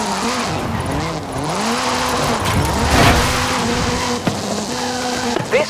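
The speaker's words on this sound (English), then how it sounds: "This is Mr. Kenneth Block's Hoonigan Gymkhana 10 Ford Focus RS RX. 2-litre, turbocharged, front-mounted engine and all-wheel drive." Ken Block's Hoonigan Gymkhana 10 Ford Focus RS RX in Forza Horizon 5, a 2-litre turbocharged front-engined all-wheel-drive car, loudly revving with rising and falling engine pitch, tyre squeal and skidding, close and continuous.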